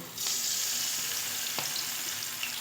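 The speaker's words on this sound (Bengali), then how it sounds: "তেলটা গরম হয়ে গেছে এবার আমি ঠিক বড়ার আকারে আমি দিয়ে দেব লাল লাল করে মুচমুচে করে ভেজে তুলব" Vegetarian fritters hit hot oil in a pan and set off a sudden, loud, steady sizzle that fills the whole moment at close range, with a faint clink or two and no voices.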